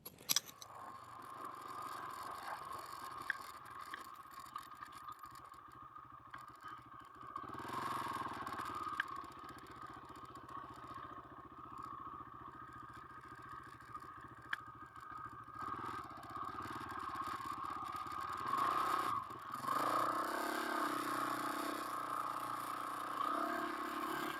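A motorcycle engine runs steadily while riding through sand and gravel at a Quartzsite campsite, with crunching, scraping noise from the loose ground beneath, a continuous rough drone that grows slightly louder toward the end.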